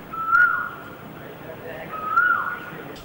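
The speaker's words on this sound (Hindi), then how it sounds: "कोयल की सुरीली आवाजें" A koel calls in springtime countryside among wheat and mustard fields, giving two clear, sustained whistled notes a little apart over faint background noise.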